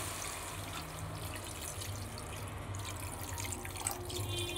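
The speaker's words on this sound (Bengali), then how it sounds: "এবার আমি জল দিয়ে দিচ্ছি।" Water poured into a cauliflower, potato and soybean curry in a cooking pot, a steady soft wash of liquid running on throughout with no talking.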